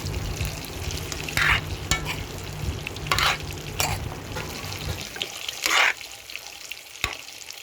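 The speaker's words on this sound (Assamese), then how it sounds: "এইফালে মাছ ফ্ৰাই কৰি আছে" Fish fries in a pan in a home kitchen, a steady close sizzle with occasional stirring scrapes and clatters, the sizzle dropping away near the end.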